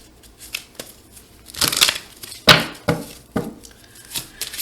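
A deck of tarot cards is given a quick shuffle, producing several short papery riffle and slap bursts spread over a few seconds. The bursts sound close, in an otherwise quiet room.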